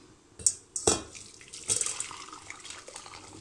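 Water poured into a pan at a kitchen sink while preparing dinner, a short splashing burst followed by a steadier running, trickling flow, close and fairly loud with no talk over it.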